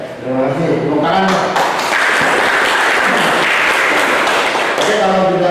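A classroom group of students gets applause after presenting, a dense wash of clapping that runs the whole time, with voices talking over it.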